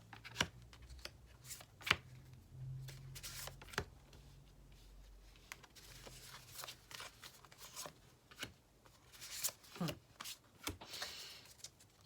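Tarot cards being shuffled and drawn from a deck, heard as soft, irregular papery riffles and sharp slaps, with brief pauses between bursts and a quiet room tone underneath.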